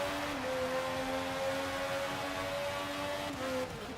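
A race car's engine and exhaust in the Forza 5 racing game drone steadily with a pipey tone, holding a sustained, slightly wavering pitch throughout, fairly faint, with no speech over it.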